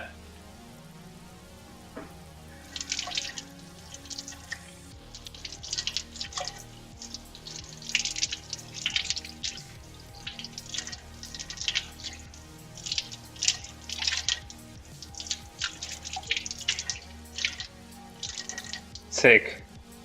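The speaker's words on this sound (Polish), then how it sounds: "szczypior myję" Chives rinsed under a running kitchen tap, with an irregular patter of water splashing and dripping at close range through most of the stretch, a soft background hum underneath.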